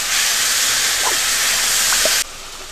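Pad Thai sauce hitting a hot pan with chicken, a loud, broad hiss of sizzling steam that holds steady and then drops abruptly to a softer simmer near the end, with no talking over it.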